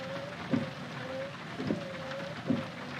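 Heavy rain drumming steadily on a truck in Euro Truck Simulator 2 while driving through Finland, a dense constant wash with a low engine hum and a few soft thuds.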